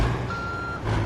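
A truck's steady reversing beep in American Truck Simulator, one sustained electronic tone over a low idling engine rumble, fairly clear and mid-distance.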